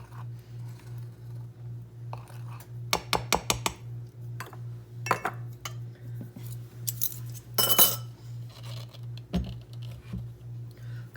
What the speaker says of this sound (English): And then I'm just going to stir it together